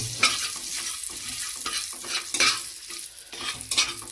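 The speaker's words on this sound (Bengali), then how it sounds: "এবার এই মাছ ভাজার তেলের মধ্যে আমি 2টো তেজপাতা আর একটা দারচিনির ডাঁটিকে" Two bay leaves and a cinnamon stick sizzle in hot oil previously used to fry fish for a prawn malai curry, with a steady crackling hiss and intermittent stirring scrapes.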